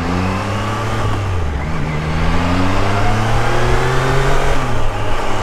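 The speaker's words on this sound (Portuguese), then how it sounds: "Nossa, essa moto tem um som gostoso." A Triumph Tiger Sport 660 motorcycle engine revs up close and loud, its pitch climbing and holding in a steady throaty roar.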